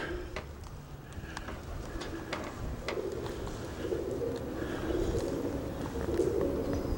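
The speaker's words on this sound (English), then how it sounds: "Pigeons." Pigeons cooing faintly inside the Old Montana Prison in Deer Lodge, Montana, soft repeated coos over a low, hollow background hum, with a few scattered chirps.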